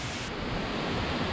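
Marmala waterfall in a forest roars as a steady broadband rush of falling water, dense and continuous for a brief moment, with no voices.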